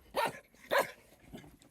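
Dogs bark in two sharp, loud bursts close by, followed by a fainter third bark, with quiet gaps between.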